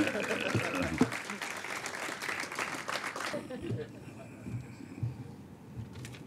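Applause rises from the audience at a laundry and dry cleaning awards ceremony as a category sponsor is welcomed onstage, steady for about three seconds before thinning to sparse claps under a quieter room.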